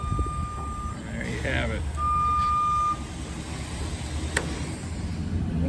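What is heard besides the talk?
JLG lift driving with warning beeps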